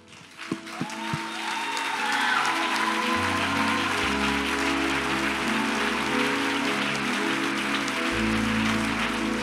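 Church congregation at a marriage preparation gathering rising and applauding, a few scattered claps swelling into sustained, dense clapping with a low musical drone underneath.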